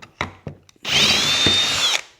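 A power drill bores a pocket hole through a wood board held in a VEVOR pocket hole jig. A few short knocks come first, then about a second of loud, steady whine close up.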